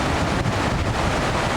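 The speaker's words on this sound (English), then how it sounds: "here's the Firehole River" Firehole River in Yellowstone running high after heavy snow and rain, a dense, continuous rushing of water close by, with wind buffeting the microphone.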